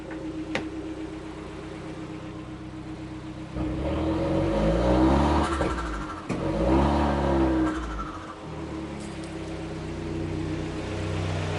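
An Alfa Romeo Giulietta widebody engine revs hard while accelerating in second gear, rising sharply to a loud, strained roar, dipping briefly, then climbing again before settling back toward a lower drone.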